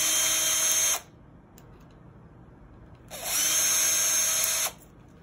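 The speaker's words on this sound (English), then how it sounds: "I'm using an electric screwdriver here" An electric screwdriver whirs in two high-pitched bursts, about one and a half seconds each, as it drives hose clamp screws, with a quiet pause between them.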